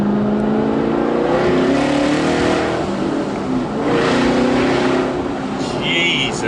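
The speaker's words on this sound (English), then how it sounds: "This is the loudest car I've ever driven." Walkinshaw Performance VXR8 V8 engine roaring as the car accelerates, a loud sustained throaty bellow with rising and falling revs, heard from inside the car.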